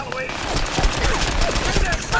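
Rapid gunfire from the Fallout 4 VR video game, dense bursts of shots crackling continuously over two seconds, with a voice talking over part of it.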